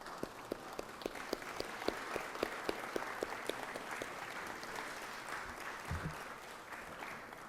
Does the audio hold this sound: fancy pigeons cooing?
no